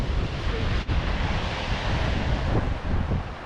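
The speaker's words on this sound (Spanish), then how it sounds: "Mirá esas olas, terrible." Strong wind and crashing ocean waves at an abandoned ranch near Ushuaia, a loud continuous roar with heavy wind buffeting on the microphone and a momentary dip partway through.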